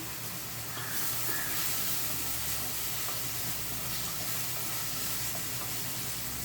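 Chopped onions frying in a pan for Ambur-style dried fish curry produce a continuous, even sizzle and hiss at moderate volume, with faint stirring.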